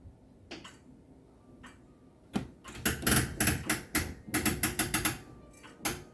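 Clock winding with a ratcheting click mechanism, a few sparse ticks giving way to rapid bursts of sharp, close mechanical clicks in uneven runs.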